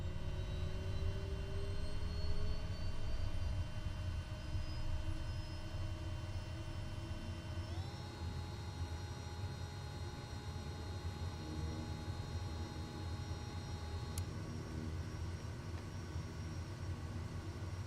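Kodiak 100 turboprop engine in Microsoft Flight Simulator 2024, a steady whine and roar that rises in pitch partway through and then holds level, continuous and fairly quiet with no talk.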